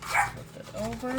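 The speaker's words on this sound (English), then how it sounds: "And that is my dog, and he wants my attention." A pet dog barking for attention indoors during a paper craft session, short yippy barks close by, mixed in under a person speaking.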